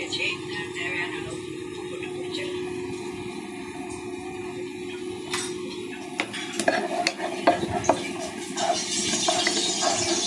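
Mustard seeds and cumin seeds go into hot oil in a pan for Indian-style tofu sambal, with a steady sizzle, a metal spoon stirring and clinking against the pan, and scattered sharp pops.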